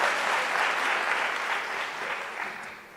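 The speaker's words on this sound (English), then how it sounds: "Can we give them a round of applause?" A crowd at an entrepreneurship conference breaks into applause, a thick continuous clatter of many hands, loudest at the start and slowly thinning toward the end, heard from a moderate distance without talk.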